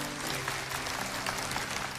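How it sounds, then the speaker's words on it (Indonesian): Church congregation clapping during a sermon, a brief dense burst of applause filling the room, loud and continuous with no talking. "Kasih tepuk tangan untuk Tuhan Yesus"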